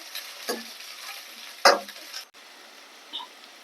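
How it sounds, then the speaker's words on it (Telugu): Mint leaves with salt and turmeric fry in a pan, a faint sizzle under a couple of sharp stirring scrapes and a clack of the spoon, close by with no voices. "కడిగి శుభ్రం చేసుకున్న రెండు రెండు కప్పులు పుదీనా వేసుకోవాలి ఒక స్పూన్ ఉప్పు కొద్దిగా పసుపు ఇదంతా ఒకసారి కలిపి ఫ్రై చేసుకోవాలి"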